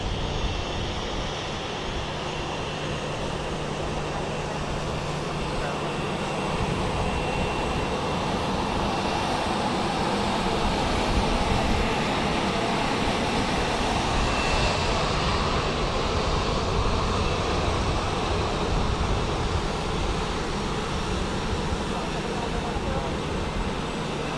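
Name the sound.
Boeing 737 MAX 8 landing at Dallas Love Field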